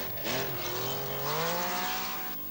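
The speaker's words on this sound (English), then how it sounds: "Toivonen's charging back into contention with some remarkable stage times in the 300 horsepower Porsche" A 300 horsepower Porsche rally car races on a stage, its engine revving hard in a rising, strained whine that holds loud and close, then drops off briefly.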